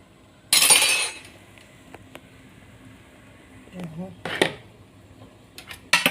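Stirring a Betawi mango vegetable dish in a pot with a utensil gives a burst of clinks and scraping at the start, then quieter clatter and a few sharp clinks later on, with faint voice sounds in the background.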